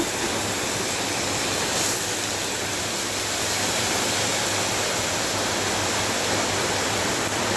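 Ginger and cumin paste sizzles in hot frying oil while cooking a taro curry, a loud, dense, continuous hiss that holds steady throughout with no voices.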